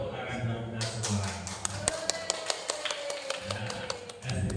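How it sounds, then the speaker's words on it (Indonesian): A group of teachers and staff at a school gathering breaks into a short burst of applause, a quick run of sharp, evenly spaced claps in a room, with voices at the start and end. "tepuk tangan buat kita semua"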